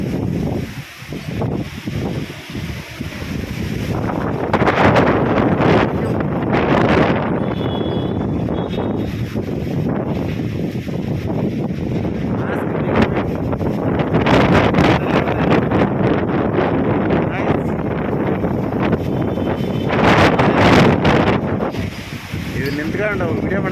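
Strong, gusty wind sweeping dust through Bengaluru ahead of rain roars steadily into the microphone, with loud buffeting surges throughout.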